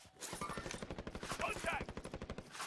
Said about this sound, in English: They're getting shot at.